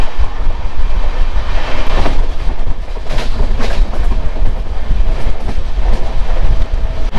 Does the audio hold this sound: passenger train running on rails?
yes